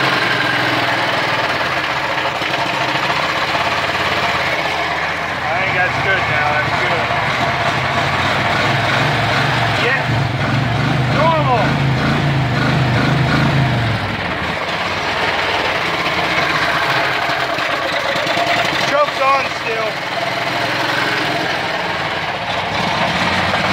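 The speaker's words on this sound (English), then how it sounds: "It won't idle. You gotta keep her running with the choke." A Landmaster engine that will not idle is kept running on the choke, giving a steady, loud, rough mechanical drone with a deeper rumble swelling midway and then easing, and no voices over it.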